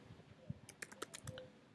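A password is typed on a computer keyboard: a quick, faint run of key clicks in an uneven rhythm, with a few soft low thumps.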